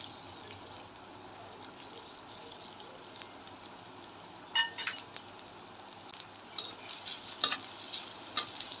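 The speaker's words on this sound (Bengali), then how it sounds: "পেঁয়াজটা একটু লাল লাল করে ভেজে নেব।" Chopped onion sizzles in hot oil in a wok, cooked as filling for banana-flower cutlets, with a steady soft frying hiss and occasional spatula scrapes and clinks growing busier toward the end.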